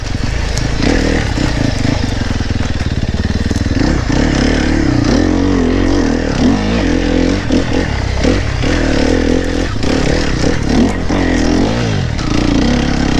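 A dirt bike engine revving loud and close with a throttle that reacts to small inputs, a continuous raspy drone that rises and dips in quick surges, with no talk over it.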